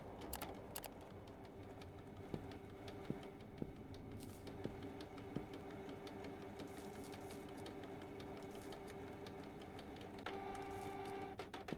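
A photo printer in a photo shop runs at a low level, a steady mechanical whir with faint clicks and ticks throughout and a slightly louder motor stretch near the end.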